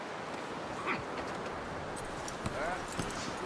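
Horse hooves clip-clop faintly in Red Dead Redemption 2, a few soft scattered steps buried under a loud dense wash of game ambience and background noise.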